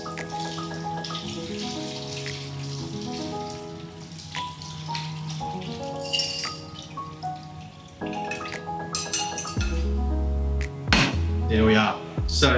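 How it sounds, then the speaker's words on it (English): Brine poured over salmon fillets in a tray, watery splashing and pattering in bursts over steady background music, loudest and fullest near the end. "we're just going to pour over the brine"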